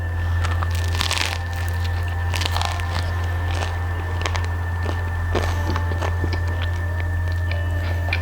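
Crusty artisan bread studded with olives is bitten and chewed close to the mic, giving a run of sharp crunches and crackles over steady low background hum.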